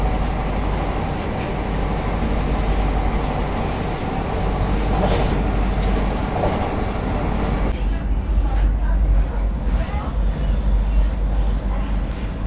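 A Patna–Howrah Vande Bharat Express runs at about 130 through Hathidah Junction without stopping: a steady, loud rolling rumble of the moving train, with rail clatter and shifting roar throughout.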